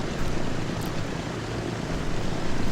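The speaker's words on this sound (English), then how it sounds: "Oh, look at that shot of that plane coming in." Plane coming in to land in the video game Transport Fever 2, a steady broad engine roar with airy rushing noise, holding at an even loudness throughout with no talk.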